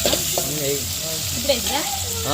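Onions fry in a pan with a continuous close sizzle and a few scraping stirs. A voice talks faintly underneath for most of this short moment.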